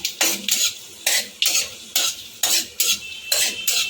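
Dry red chilli and nigella seeds frying in hot oil, heard as close, rhythmic bursts of stirring and scraping in the pan, about eight strokes over a steady sizzle, with no voices.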